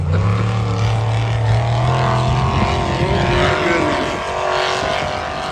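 A 1932 Roadster runs on a race track, its engine a loud, close, continuous roar whose pitch climbs and shifts as it accelerates, with no voices over it.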